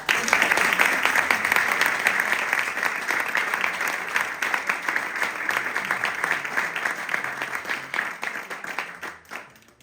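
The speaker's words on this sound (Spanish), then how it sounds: "Un aplauso." A studio audience on a Spanish television show breaks into loud, sustained applause that holds steady for nearly ten seconds before thinning out at the end.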